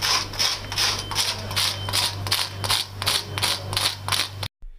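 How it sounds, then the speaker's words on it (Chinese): Plastic disposable lighter casing scraped across crumbling wall mortar produces a rhythmic series of about a dozen rasping strokes, close and fairly loud, over a low steady hum, ending abruptly. "徐师傅用一次性打火机的塑料外壳往墙上一刮，砂浆就像粉末一样往下掉"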